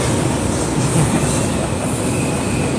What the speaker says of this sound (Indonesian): Ada kereta Gus. Jadi kita cut dulu.